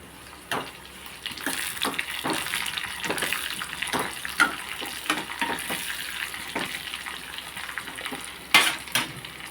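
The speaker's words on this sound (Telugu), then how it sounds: "ఇప్పుడు మనం బాగా వేగినాయి కదా ఇదిగోండి జీలకర్ర ఆవాలు ధనియాలు వేసాం" Cumin, mustard seeds and coriander seeds fry in hot oil for a tempering while Telugu curries are made, giving a steady close sizzle with crackling pops and a few sharper spatters and stirring knocks, with no talk.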